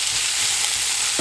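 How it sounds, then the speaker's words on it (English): Onion frying in a pan gives a steady, dense sizzle with faint stirring bumps, close and continuous, no voices. "And let's fry this onion here."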